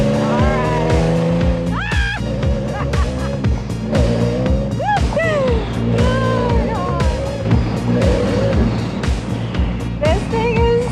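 A heavily modified, wrapped Nissan GT-R driving hard, its engine loud and raspy, revving up and down through gear changes with pops and crackles, close throughout, while people talk over it.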